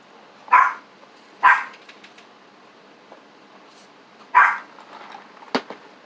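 A few sharp, high-pitched puppy barks ring out at intervals, a pair close together then another after a pause, over a faint steady background hiss.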